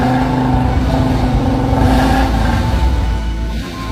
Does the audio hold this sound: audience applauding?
no